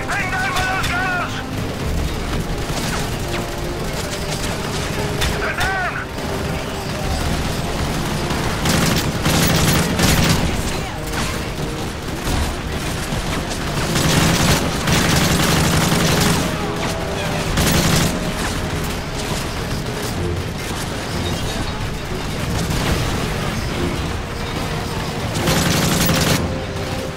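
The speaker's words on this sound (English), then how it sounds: "We're getting pinged down by those guns!" Call of Duty: Modern Warfare 3 firefight: dense bursts of gunfire and booming impacts layered continuously, loud and close, with heavier volleys recurring, while a voice talks over the shooting at points.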